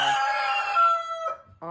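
A Mille de Fleur rooster crows loudly and close by in one long, strained call that fades out, followed by the start of a second short call.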